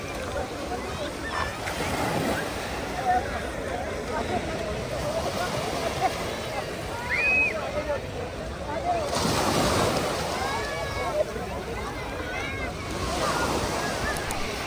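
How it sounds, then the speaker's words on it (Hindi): Sea waves washing onto Burj Al Arab beach in Dubai at night, a continuous rushing surf with swells building and breaking, mixed with wind buffeting the microphone and someone talking over it. "ये देखिए जी पानी की लहरें।"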